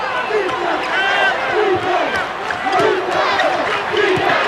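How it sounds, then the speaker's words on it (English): Arena crowd cheering at the 1980 NCAA basketball championship game between Louisville and UCLA, a loud, sustained roar of voices with shouts and whistles, rising and falling with no break. "It's UCLA's turn to cheer."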